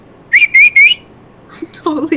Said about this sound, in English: No, your noise is the whistle.